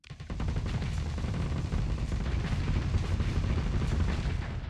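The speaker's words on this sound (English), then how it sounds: "our assault chain gun stripped away the armor" Sustained rapid gunfire from an assault chain gun in the space combat game Starsector, a dense loud roar of overlapping shots and impacts lasting the whole stretch without pause.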